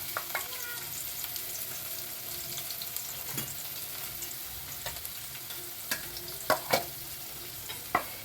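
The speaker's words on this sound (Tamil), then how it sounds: "ஃபுல்லாக வெங்காயம் போட்டேன்." Plenty of onions frying in a pan for egg noodles, a steady dense sizzle with scattered clicks and scrapes of stirring, the sharpest clatters near the end.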